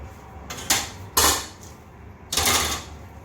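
A lid being taken off a honey extraction container, three sharp scraping, clattering bursts spaced about a second apart, close and fairly loud.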